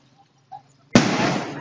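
Firework at a town fiesta in Dasmariñas: after near silence, a single sharp, loud bang bursts out, followed by a dense, hissing crackle that fades slightly.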